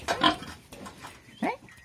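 A piglet from a sow's litter on a farm gives several short, close grunts and squeals in uneven bursts, separated by brief pauses.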